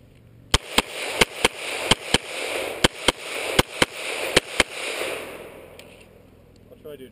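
Glock 17 pistol fired in a string of about a dozen sharp, loud shots at a steady, fairly quick pace, each with a brief echo, followed by a fading outdoor tail and faint rustling.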